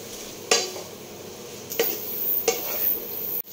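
A spoon stirs crispy fried honey garlic chicken in a pan, giving soft scraping sounds over a light sizzle, with a few sharper clinks of the utensil against the metal.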